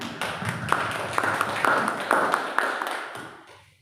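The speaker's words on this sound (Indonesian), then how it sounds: "Kita beri tepuk tangan sekali lagi" An audience gives a presenter, Ibu Nurmina Santi, another round of applause: a wash of clapping with a few sharper individual claps standing out, fading away toward the end.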